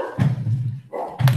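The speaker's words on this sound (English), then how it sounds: "The first bark was my dog" A pet dog gives two short, close, loud barks about a second apart, heard indoors with no talking.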